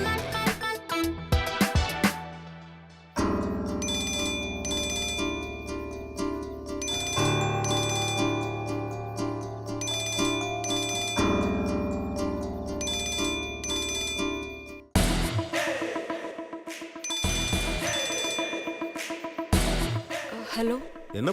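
A loud, melodic phone ringtone plays on and on in a Tamil romantic serial scene, its tune repeating with brief breaks between phrases.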